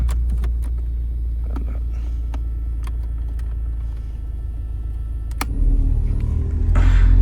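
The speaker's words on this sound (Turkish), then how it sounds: "Kompresörler çalıştı ses geliyordur" Compressors run in a parked Renault Megane, giving a steady close low rumble with scattered light clicks that swells louder toward the end; nobody speaks.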